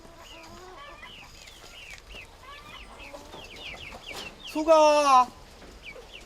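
Chickens cluck in a coop on a Jirisan mountain homestead, a busy chatter of short calls with one louder drawn-out squawk, while a voice speaks briefly.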